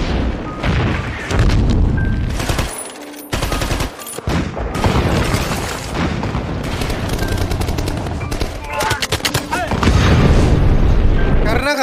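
A Soviet attack in a war film about Finnish troops in World War II brings loud, dense gunfire, machine-gun bursts and booming explosions almost without pause, with one short lull partway through.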